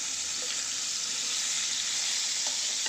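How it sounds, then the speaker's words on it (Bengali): Hilsa fish frying in hot oil, a dense, even hiss of sizzling that stays loud and continuous throughout with faint crackles, no voices. "এদিকে ইলিশ মাছ তেল গরম হয়ে গেছে। এখন ইলিশ মাছ ভাজি করব।"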